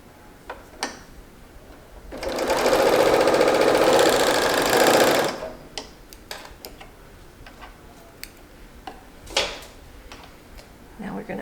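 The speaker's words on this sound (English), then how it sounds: "We're just going to serge up the other side so that it becomes a circle." A serger overlock machine stitching a seam on a tee neckband runs in one steady, whirring, rapid-ticking burst for about three seconds, close by, with quiet handling clicks and rustles before and after.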